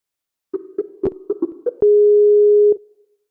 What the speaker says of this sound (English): So I'm going to call you back, John